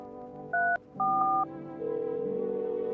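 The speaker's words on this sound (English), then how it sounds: "Let's call the number from the psychic lady." A telephone number is dialed in the video game No, I'm not a Human: a few distinct keypad tones sound in quick succession, then a steady dial tone follows.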